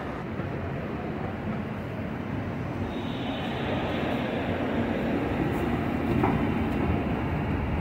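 A metro train runs past with a loud, steady rumble and roar that builds slightly toward the end, with no voices over it.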